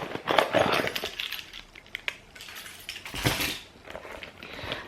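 Keys jingle and clink as they drop into a small handbag, a scatter of light metallic rattles and rustles with a brighter clatter near the end and no talk.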